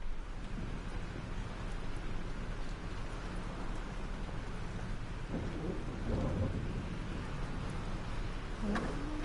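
A thunderstorm in the video game Life is Strange: heavy, steady rain roars without a break, and a low rumble of thunder swells near the end.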